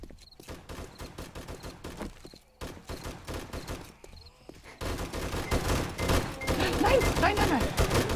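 Rapid bursts of gunfire from a German community-server shooter game, first sparse sharp shots, then a denser, louder barrage toward the end, with no speech.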